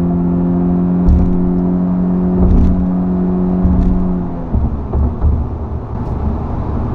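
A 2019 Honda Insight Touring hybrid car accelerating, its steady engine drone and tonal whir heard from inside the cabin, rising briefly and then easing into road rumble with a few thumps.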